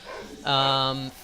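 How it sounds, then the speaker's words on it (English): Dogs barking and whining close by in a short burst, a single sustained, strained yelp-like cry lasting under a second over quieter room sound. "Oh, sorry about the dogs."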